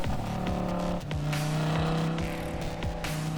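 A 2011 Audi R8 manual supercar drives on the road with a steady engine drone and shifting pitch, as it accelerates and changes gears, loud and continuous throughout.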